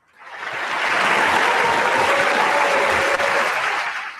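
Studio applause on a radio show rises quickly, holds as a dense, even wash of clapping for several seconds, then begins to thin out, with no talk over it.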